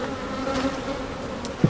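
A dense, continuous hum of many honeybees buzzing close around a hive box after comb was scraped into it, steady and droning, with a brief louder knock near the end.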